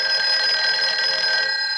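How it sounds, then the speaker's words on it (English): A 1960s telephone bell rings steadily and loudly in a home, a continuous bright metallic trill with no pauses and no voices. "Hey, that's your phone, Uncle Bill."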